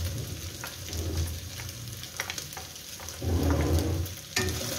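Chopped carrot and capsicum fry in a pan, a soft steady sizzle broken by a few stirring scrapes and a louder burst of crackle toward the end, with no talking.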